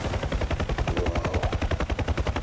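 Rapid, continuous machine-gun bursts from a helicopter door gun in the DCS UH-1H Huey flight simulator, loud and close, evenly rhythmic with a low rotor drone underneath.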